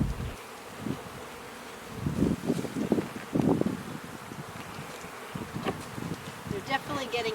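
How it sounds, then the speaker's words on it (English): Honeybees buzz steadily around the keeper during a backyard hive inspection, a dense swarming drone with louder passes of individual bees close to the microphone, plus some rustling of handling. "They're starting to buzz me a little"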